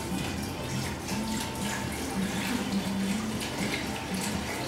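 Steady gushing of water from a tap, continuous and fairly close, filling the space with an even rushing sound and no talking.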